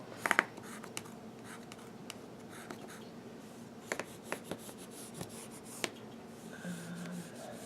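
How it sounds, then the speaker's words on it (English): A fabric marker draws lines on fabric for a pillow, giving faint, quiet scratchy strokes with short sharp ticks scattered between them, close by and otherwise near silent. "yep, that's working. Any marker will work, and draw a line"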